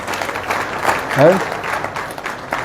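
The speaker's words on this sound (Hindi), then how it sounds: "उनके लिए भी थोड़ा ताली देखो" Audience clapping at a religious gathering in Vrindavan, a steady wash of applause running under a man's Hindi speech throughout.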